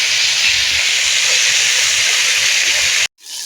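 Drumstick (sajna) greens frying in hot oil in a home kitchen, giving a loud, steady sizzling hiss that runs unbroken before cutting off abruptly near the end.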